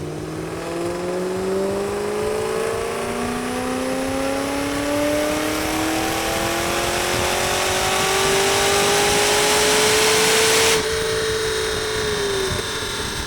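A supercharged Saleen Mustang with a 3V engine and custom headers revs up steadily on a chassis dyno, its pitch climbing through a long loud pull with supercharger whine before it abruptly cuts off and coasts down.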